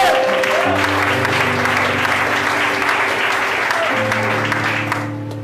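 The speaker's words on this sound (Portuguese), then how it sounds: "levante a sua mão para dar glória e aplaude a glória de Deus" A church congregation applauds during an evening sermon, steady sustained clapping filling the room for about five seconds, with faint voices mixed in before it tapers off at the end.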